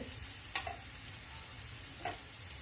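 Senai yam slices shallow frying in an oiled pan give a steady, close sizzle throughout, broken by two soft clicks as they are turned.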